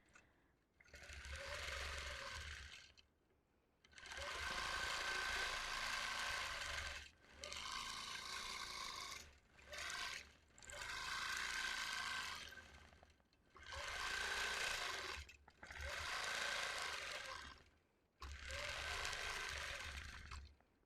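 A quilting sewing machine stitches continuous curves across a lone star quilt, running in steady bursts of a few seconds each with short pauses between them, heard up close.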